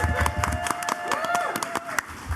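A convention audience at a live San Diego Comic-Con show claps in scattered, sharp bursts while a voice keeps talking over the applause.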